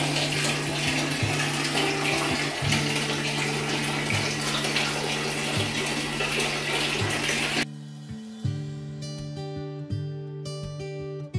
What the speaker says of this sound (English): now I'm gonna have my first shower in 9 days